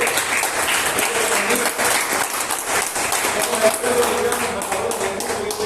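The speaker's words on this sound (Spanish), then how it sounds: "¿Por qué no dan un fuerte aplauso a Dios?" A church congregation gives a strong, sustained round of applause to God, with dense, steady clapping filling the room for several seconds.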